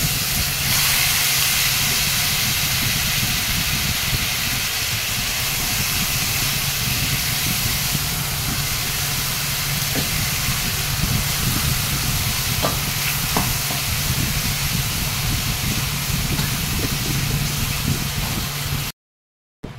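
Fried spice paste sautéing in hot oil in a pan, a loud continuous close sizzle and hiss with faint stirring clicks, alone until it cuts off abruptly at the end.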